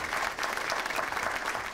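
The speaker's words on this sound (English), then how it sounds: "Let's give the Martin family a great round of applause" Audience applause at an LSU event celebrating a family's gift to engineering, steady dense clapping filling the short stretch.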